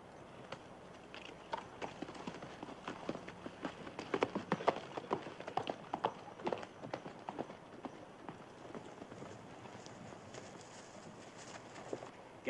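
Hooves clip-clop quickly and unevenly on hard ground, a group of horses moving at a trot or run, fairly faint and distant.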